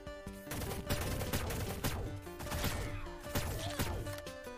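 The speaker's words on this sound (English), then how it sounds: "Because they're just repeatedly shooting at me." Rapid gunfire in the game Shell Shockers, repeated sharp shots in quick bursts over a constant musical drone, fairly steady throughout with no talking.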